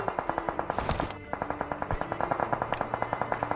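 Rapid automatic gunfire in a battle royale video game: a steady rhythmic stream of loud shots, with a brief pause near the middle and a few heavier bangs in the mix. No talking.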